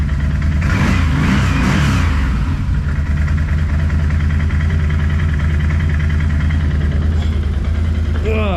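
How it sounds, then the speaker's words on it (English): A 2011 Can-Am Outlander 800 ATV engine runs loudly nearby, revving up early then settling into a steady idle drone. "It sounds spot on as far as the way it's idling and revving."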